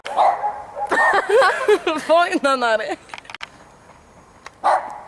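A dog barks and yips indoors amid people talking, several short barks scattered through the clip, with voices overlapping.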